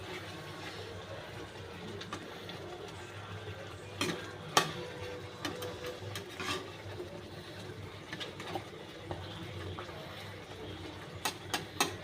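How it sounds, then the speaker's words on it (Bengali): Egg korma stirred gently in a pan: faint, soft scraping and low bubbling with a few sharper clicks of the spoon against the pan, quiet and close, no talking. "একটু হালকা নেড়ে দেব।"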